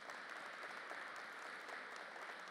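A crowd applauding steadily at an official recognition ceremony, a dense wash of clapping that holds at an even level throughout.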